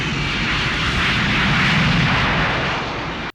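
A loud, continuous propeller airplane engine roar from the 1985 film The Jewel of the Nile, steady and dense throughout with no talk over it.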